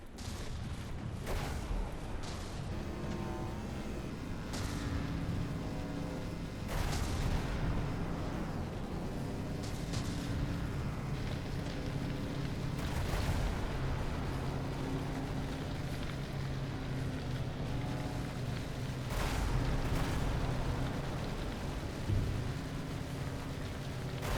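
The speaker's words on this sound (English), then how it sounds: "it's trying to fire its artillery, that's for sure." Battleship artillery fires in the video game From the Depths, heavy booming blasts recurring every few seconds over a constant rumbling roar of battle, dense and distant-sounding.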